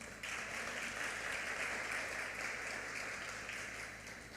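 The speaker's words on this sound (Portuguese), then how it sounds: "Dá uma salva de palmas a Deus" A church congregation applauding during a worship service, steady continuous clapping from many hands, evenly sustained and fairly distant, tapering slightly at the end.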